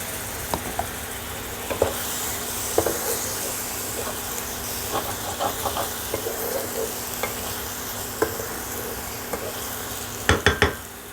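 Spice masala paste sizzling in a pan as a little water from rinsing the paste bowl is added, with a steady hiss, scattered stirring clicks and a louder burst of crackling near the end.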